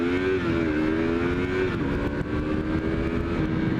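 A 2016 Yamaha MT-03 motorcycle accelerates hard through three gears, its engine note climbing, dropping briefly at each shift and rising again, loud and close, with no voices.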